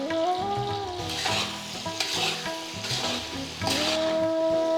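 Potatoes fry in hot oil seasoned with salt and turmeric, giving a loud, continuous close sizzle broken by rhythmic scraping and stirring strokes, with no voices.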